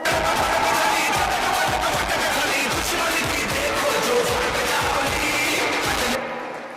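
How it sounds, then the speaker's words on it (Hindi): Loud, sustained applause and cheering from an audience at a business event, dense steady clapping filling several seconds before cutting off near the end. "जोरदार तालियां"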